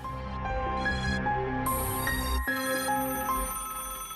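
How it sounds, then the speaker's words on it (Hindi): A phone rings with a bright electronic melody, repeating tones over a steady background, with no talking. "देखो किसका फोन है"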